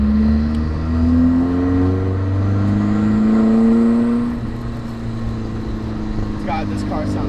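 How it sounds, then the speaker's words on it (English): A Nissan S14 with aftermarket coilovers and no power steering idles and revs up with a rising engine note, loud and close, then settles back to a lower steady drone, with a voice talking over it. "God, this car sounds so good."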